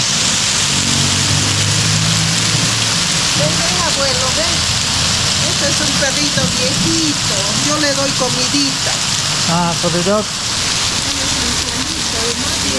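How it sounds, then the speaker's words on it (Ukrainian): Heavy hail falling in a Peruvian city in the Andes, a dense, steady hiss of pelting stones on surfaces throughout, with someone talking over it. "Такий здоровенний град."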